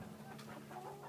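Chickens in a coop cluck softly, a few short quiet clucks from the flock close by, faint and without talking.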